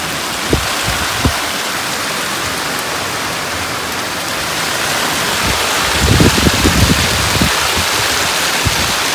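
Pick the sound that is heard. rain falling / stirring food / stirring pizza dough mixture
rain falling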